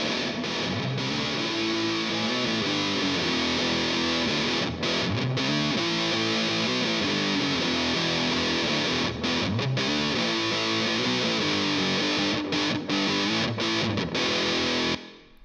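Heavily distorted electric guitar runs through the Mercuriall AmpBox amp plugin with added reverb, playing loud and continuously for about fifteen seconds with no talking.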